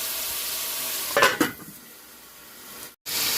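Pork and chicken for adobo sauté in a pan with a steady, bright sizzle, broken by a couple of short scraping stirs and a brief dropout near the end.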